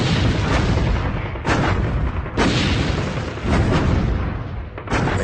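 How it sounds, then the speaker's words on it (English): Booming barrage from eighteen 105mm howitzers firing in quick succession, several heavy blasts in a row, loud and close with no gaps of quiet between rounds. "And so I opened fire with 18 105mm howitzers."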